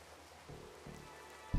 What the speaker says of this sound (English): The hills are alive with the sound of raining.